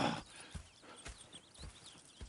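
Horse hooves from Red Dead Redemption 2 clop steadily at a walking pace, about five evenly spaced soft thuds, close and fairly quiet with no talk over them.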